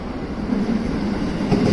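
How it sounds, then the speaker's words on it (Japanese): A JR 207 series electric train pulls into Amagasaki station, a steady loud low rumble of wheels and motors close by, with no talk over it. "やってきたのは207系電車"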